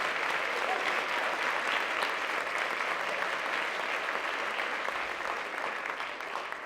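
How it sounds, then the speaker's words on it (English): A theatre audience at a Sound of Music performance applauds continuously, a dense and even wash of clapping from many hands heard from within the house, with faint crowd murmur mixed in. "please rise and we'll applaud you again"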